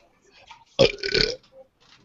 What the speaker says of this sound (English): I'm all burps tonight.